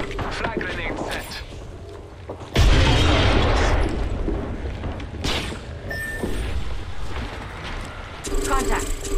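Frag grenade blasts in Apex Legends boom loudly during a firefight, with one big detonation followed by further bursts and mechanical clatter.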